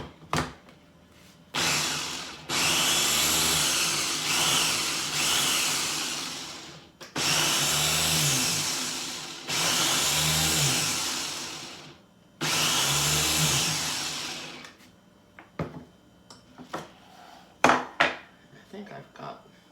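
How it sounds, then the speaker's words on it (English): An electric grinder chops cranberries with orange in repeated loud whirring bursts of a few seconds each, separated by short pauses and some clattering of the container near the end. "I've got most of the berries ground up in there"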